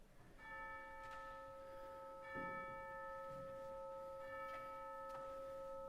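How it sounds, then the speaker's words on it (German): A church tower clock bell strikes twelve times at a slow, steady pace in the distance, each ringing tone overlapping the last, with a soft hum of background noise throughout. "In der Ferne hört man eine Kirchturmuhr 12-mal läuten."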